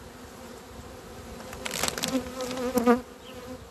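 Honey bees buzz around a hive as a forager returns carrying large pollen loads, the hum faint at first then swelling closer and louder near the end, with a brief spoken word at the start.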